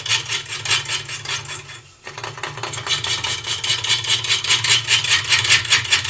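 Woodturning gouge cutting wood on a lathe with the bevel rubbing, a steady close scraping rasp over the lathe's low hum, pausing briefly near two seconds before resuming.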